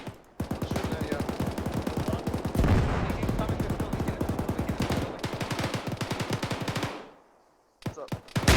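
Rapid automatic gunfire in a military video game rattles in long, dense bursts for about seven seconds, then stops abruptly, with a few more shots after a short gap.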